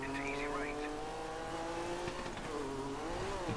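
Rally car engine in the Dirt 3 video game drones steadily and loudly throughout, with rising and falling revs and some tire squeal, while someone talks over it.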